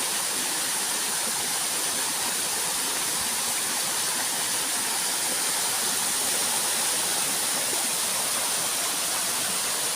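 A waterfall on Huai Huat mountain pours in a steady, loud, unbroken rush of falling water that fills the whole stretch without pause, with no voices over it.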